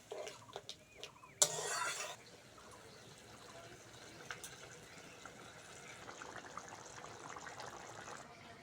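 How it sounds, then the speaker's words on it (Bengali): Water is poured into cooked-down masala in a pan for egg curry, a brief loud gush lasting under a second, followed by quieter simmering and faint kitchen sounds. "এইবার অল্প করে জল দিয়ে দেবো।"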